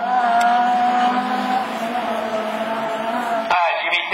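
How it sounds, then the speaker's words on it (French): An Audi A3 and a Peugeot 306 rallycross car race side by side at a French championship event, engines droning loudly with a sustained high whine that shifts pitch sharply near the end. "Regardez bien le duel entre l'Audi A3 et la 306."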